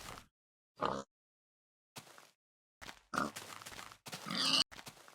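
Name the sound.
pigs grunting in Minecraft video game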